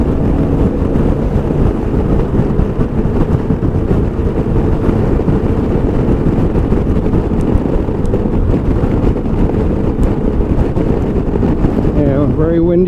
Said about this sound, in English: This is a very windy bridge here.